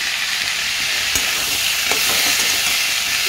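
Potatoes frying in a pan hiss in a loud, steady sizzle while being stirred, with a few soft scraping knocks from the stirring utensil.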